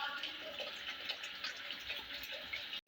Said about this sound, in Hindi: अब हम इसके अंदर ना पानी ऐड कर देते हैं।